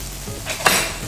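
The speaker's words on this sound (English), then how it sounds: "A couple of knobs of butter into the pan. And then straight away with the garlic." Butter and garlic hit an oiled frying pan, with a brief metallic clink of pan or utensil followed by a rising close sizzle, loud and alone with no talk.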